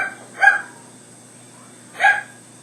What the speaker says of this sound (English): Older dog, Max.